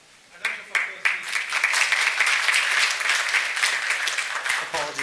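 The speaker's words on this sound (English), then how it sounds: "A round of applause, please." Audience applause breaks out at a talk on intellectual property and AI, starting with a few scattered claps and swelling into steady, loud clapping that holds to the end, with a brief voice near the close.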